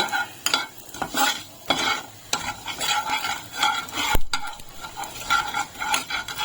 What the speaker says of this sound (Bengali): দিচ্ছি কিছুটা সর্ষে আর দিচ্ছি সাদা তিল দিচ্ছি একটু চিলি ফ্লেক্স আমি ভালো করে ভেজে নেবো এগুলোকে